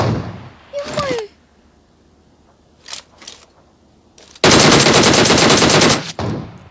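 Video game gunfire: a sharp shot or two near the start, scattered single shots, then a dense loud burst of automatic fire lasting well over a second, with no talk over it.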